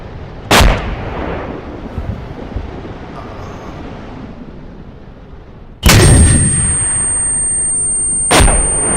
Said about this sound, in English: fire your last RPG-27s